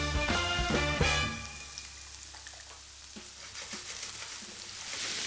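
Garlic and chili pepper sizzle in olive oil in a frying pan, with a steady crackling fry throughout. A few clattering knocks at the start fade into a continuous hiss, with no talking.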